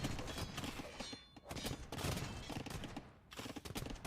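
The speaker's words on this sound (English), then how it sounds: "Here come the bombard cannons." Bombard cannons firing in Age of Empires, a dense barrage of booming shots and impacts layered over battle noise, loud and continuous with brief lulls.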